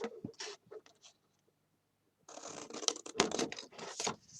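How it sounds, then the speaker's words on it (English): Gift wrapping paper being cut with scissors to remove a rectangle, with crisp snipping and crinkling in short bursts, a brief pause, then a longer stretch of close, louder scraping cuts. "we're going to cut this out because we don't need it"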